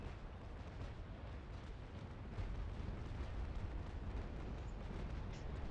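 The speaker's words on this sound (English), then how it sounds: "the mortars hit him at the last" Steady, dense rumble of mortar fire and shell explosions from a naval battle in the sailing game Naval Action, a continuous low roar that swells slightly louder about halfway through, with no distinct separate blasts.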